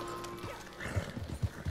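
Horse hooves clop in a few heavy, irregular steps in the video game Red Dead Redemption 2, with a brief neigh-like whinny earlier, close and fairly quiet.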